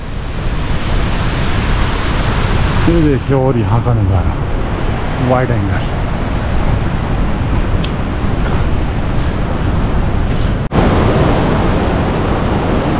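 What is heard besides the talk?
mountain waterfall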